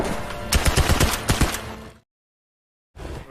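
Rapid gunfire in a war film, a dense burst of repeated shots over noisy battlefield ambience, cut off abruptly into silence before the din briefly returns.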